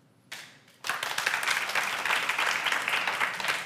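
Audience clapping in a lecture hall during a medical course: a few faint taps, then a sudden burst of steady crowd applause that holds at an even level to the end.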